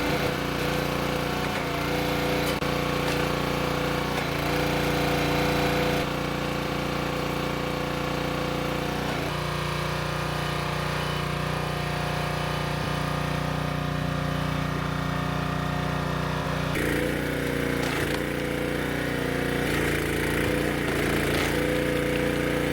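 A Champion 27 ton log splitter's small gas engine, nearly out of fuel, runs steadily through the whole stretch, a loud, close, continuous drone with shifts in load and tone, with no talk over it.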